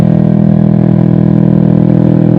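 A Kawasaki Ninja 250 FI with a short Pro Liner exhaust idles loudly and close, producing a deep, rapid, continuous throbbing rumble with no pauses.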